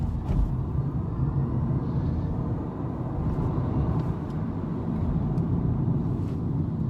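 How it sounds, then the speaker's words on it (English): A Nissan LEAF electric car accelerates in Malaysia, heard from inside as a steady low road rumble and tire noise, fairly quiet and constant, with no talking. "The acceleration on a Nissan LEAF or any electric car is simply amazing."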